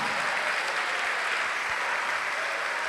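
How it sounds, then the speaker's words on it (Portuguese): A church congregation applauding steadily, a dense, even wash of clapping from a large crowd that holds from start to finish without a break. "vamos aplaudir ao Senhor, porque muita gente foi curada agora"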